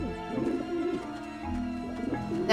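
Pigeons cooing softly in Grim Fandango, a few low, rounded bird calls over a musical background, with a louder burst at the very end.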